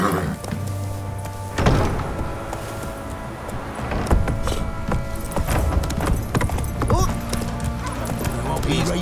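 Roach, Geralt's horse in Witcher 3, gallops with rapid clip-clopping hooves and a whinny, mixed with thumps and clatter while voices talk over it.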